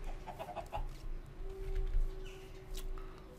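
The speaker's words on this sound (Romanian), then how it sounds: "Și noi avem decât niște găinușe pe aici." Chickens in Minecraft cluck in short, soft bursts, with a few scattered clucks over a steady low hum.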